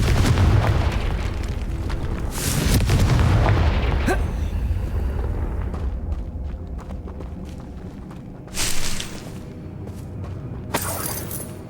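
Confringo spell blasts in Hogwarts Legacy make loud rumbling booms that roll on for several seconds, then fade, followed by a couple of shorter whooshing bursts and a faint voice in the background.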